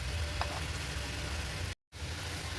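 Chicken tangdi kabab, freshly flipped in a pan, frying with a steady, dense sizzle that holds close and even for a couple of seconds, broken by a brief cut to silence before the sizzle resumes.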